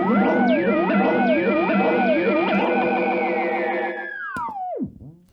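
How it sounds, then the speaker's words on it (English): A Zepp theremin run through an Echoplex EP3 tape echo produces swooping, wavering pitched tones with repeating echoes stacking up, sustaining loudly before diving downward in pitch and fading out at the end. "I have this, it's called a Zepp Thermin that I purchased on Amazon"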